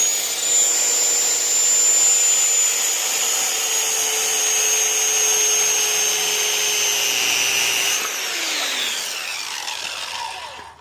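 Power saw blade running steadily through a wooden board in one full-depth pass while making an earring display stand, a loud continuous whine that holds for about eight seconds and then winds down as the cut finishes.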